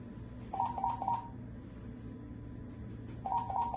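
A phone's paging tones ring out as two short bursts of three rapid electronic beeps, separated by a quiet stretch of low background hum.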